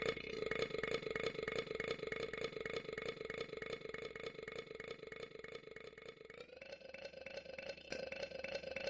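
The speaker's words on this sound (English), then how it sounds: "it kind of sounds like burps" Long, droning burp-like tones come from a burp-making game item, a continuous throaty rumble with a pulsing texture that shifts pitch partway through, with no other sounds and no talk.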